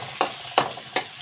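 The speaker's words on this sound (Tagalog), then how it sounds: "Ayun ang aking oil. Ang aking bawang." Garlic frying in oil in a home kitchen, with a soft sizzle beneath three sharp, evenly spaced scrapes of a utensil against the pan.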